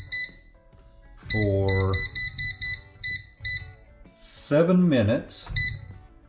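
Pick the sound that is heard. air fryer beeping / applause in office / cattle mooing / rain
air fryer beeping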